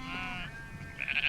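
Sheep on the Isle of Eigg bleating briefly, a wavering call followed by a second higher, sharper bleat, moderately close and alone.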